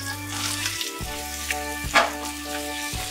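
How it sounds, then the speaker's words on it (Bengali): Pumpkin added to lightly fried onions in a pan, giving a close, loud sizzle with bursts of frying and stirring clatter over a steady hum. "এবার এর মধ্যে কুমড়োটা দিয়ে দিচ্ছি।"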